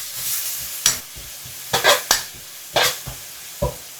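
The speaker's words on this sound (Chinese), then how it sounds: "加入胡萝卜，翻炒2分钟至略微变软。" Carrots stir-fried in hot oil with garlic and scallion whites give a steady sizzle broken by several quick scraping stirs of a spatula in the wok.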